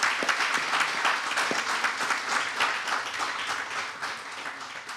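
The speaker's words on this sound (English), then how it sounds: "give a round of applause for our Ukrainian friend" Audience at a conference panel applauding, dense, continuous clapping from many people that holds steady and then gradually eases off, with no voices over it.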